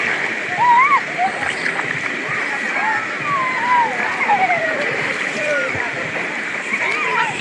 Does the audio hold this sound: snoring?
no